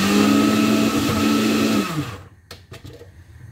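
An electric blender whirs loudly and steadily while blending ingredients for oxtail soup, then winds down and stops, leaving a few faint clicks and kitchen noises.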